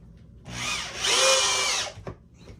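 A screw gun whirs up and drives a 2.5 inch screw deep into wood, one loud sustained burst with a rising pitch as the screw seats, then a brief clunk and quiet.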